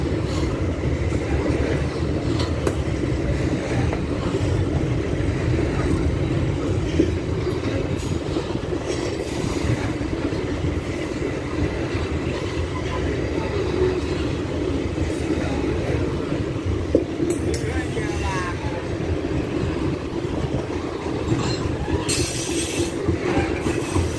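Grain-loaded freight cars roll past at Lago Rolândia with a continuous heavy rumble and rattle, plus occasional metallic wheel squeals and clicks, loud and close for the whole stretch.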